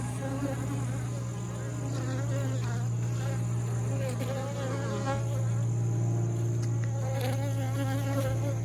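Honey bees buzzing on a hive frame, a steady close droning hum with shifting wingbeat tones from many bees at once, fairly quiet and with no voices.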